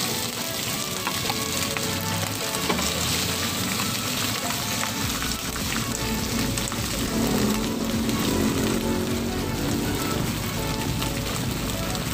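Sardine sisig fries in hot oil with a dense, continuous sizzle and crackle, held steady and close throughout as the fish toasts.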